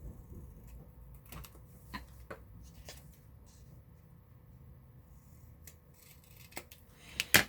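Scissors trim paper for a junk journal page in a quiet room, giving a handful of soft, separate snips spaced irregularly, with one louder cut at the end.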